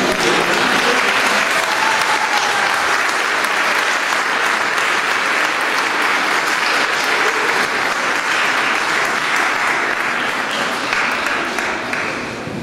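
A church congregation at an Easter Vigil Mass breaks into loud, sustained applause that stays full and dense for over twelve seconds before thinning slightly at the end.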